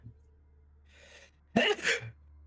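A single sharp sneeze bursts out after a short quiet pause, loud and close, following a faint breathy intake, set in a casual indoor tabletop game session.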